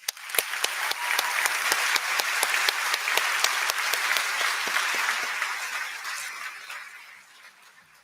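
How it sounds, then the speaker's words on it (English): A graduation audience at the Frank Sinatra School of the Arts gives a round of applause for teachers and families: dense, many-handed clapping that swells quickly, holds, then tapers off toward the end. "let's give them a round of applause"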